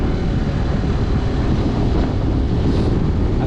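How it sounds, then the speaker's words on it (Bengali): Strong cold wind on a high-altitude Ladakh mountain road near the snow line, heavy continuous buffeting roar hitting the microphone, loud and unbroken with no talk. "আর সেই সাথে ঠান্ডা জোরালো বাতাস।"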